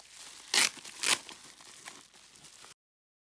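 Packaging for album merchandise crinkles close by as it is opened, with two sharp rustling bursts followed by softer handling before it cuts to silence.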